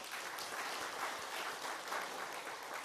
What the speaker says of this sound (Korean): 우리 하나님 앞에 영광의 박수 돌립니다.